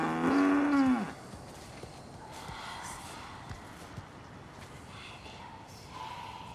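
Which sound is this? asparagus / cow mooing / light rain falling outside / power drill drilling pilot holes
cow mooing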